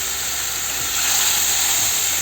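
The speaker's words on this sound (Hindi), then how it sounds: "इसमें अब मैं ये पिसा हुआ टमाटर और अदरक डाल रही हूँ" Ground tomato and ginger hit a hot pan and sizzle in a steady, bright hiss that swells slightly louder partway through, close up with no voices.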